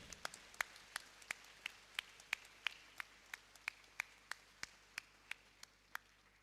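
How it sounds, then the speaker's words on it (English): Slow, evenly spaced claps ring out at a convocation ceremony, about a dozen and a half sharp individual claps at a steady beat with little background crowd noise. "Big round of applause."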